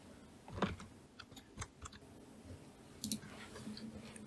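Several soft, sharp computer mouse or keyboard clicks in a quiet room while exporting an STL file for Mesh2HRTF, with a couple of distinct taps spaced about a second apart.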